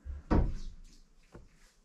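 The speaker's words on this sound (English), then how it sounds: "There is a lock on it. I can lock it from the inside." A door is shut and locked from the inside, giving one loud, close wooden thud followed by a fainter click a second later.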